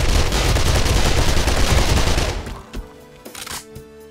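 Rapid SMG gunfire in the video game 7 Days to Die, a loud continuous automatic burst for about two and a half seconds that cuts off, followed by scattered quieter clatter and a few sharp after-sounds.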